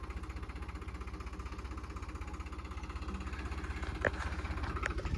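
Tractor engine running with a steady, rapid pulsing chug at moderate level, a few faint clanks near the end, no talking.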